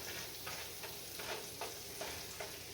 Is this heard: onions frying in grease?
yes